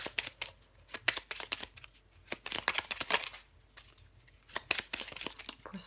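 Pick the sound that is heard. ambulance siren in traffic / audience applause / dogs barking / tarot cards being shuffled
tarot cards being shuffled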